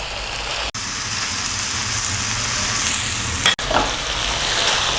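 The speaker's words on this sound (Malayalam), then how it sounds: "നമ്മുടെ മീൻ നമുക്കതിലേക്ക് ഇട്ട് കൊടുക്കാം" Chilli fish masala sizzles loudly as pieces of fish go into the hot pan, a steady bright frying hiss broken by two brief pauses, with no talking.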